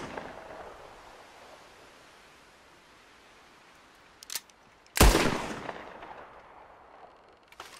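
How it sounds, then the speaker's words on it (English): A single loud gunshot in Red Dead Redemption 2 cracks out in a fairly open area with objects close by, followed by a long fading tail that rolls off over a couple of seconds, after a small earlier pop. "let's pay attention to the tail, which is different from one weapon to another"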